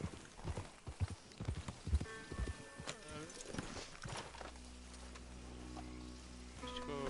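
Horse hooves clip-clop at a steady walking pace in the video game Red Dead Redemption 2, fairly quiet under a voice and game ambience, with a rain-like wash in the background.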